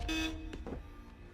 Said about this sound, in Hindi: पैर से हॉर्न बजा रहा है